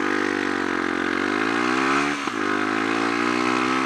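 A Sinnis Apache 125cc motorcycle pulls away from a junction, its engine rising steadily in pitch through the gears with a brief dip at a shift, loud and close throughout.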